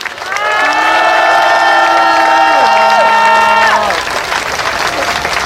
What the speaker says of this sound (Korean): 힘찬 연대 박수 부탁드립니다